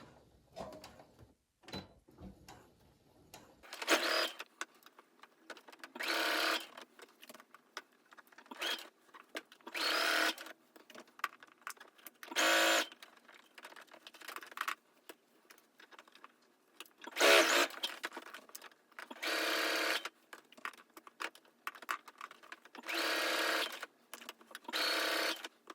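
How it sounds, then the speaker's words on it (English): Sewing machine running a regular 2.5 mm straight stitch along a tunic seam near the fold, in repeated short bursts of whirring with pauses between them, back stitching at the ends, close and clear with no talk. "And I will be back stitching here."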